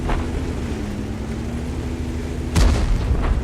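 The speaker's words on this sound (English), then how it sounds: "Okay, locked on, fire a round out, but we don't get a hit." A heavy cannon boom from a T95 tank destroyer firing a 155mm round in World of Tanks, one loud burst near the end over a steady low engine rumble, no voices.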